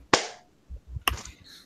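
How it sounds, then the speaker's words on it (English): Two sharp hand claps, close and fairly loud, about a second apart, each with a short bright tail, with faint low rumble between them. "that was me clapping"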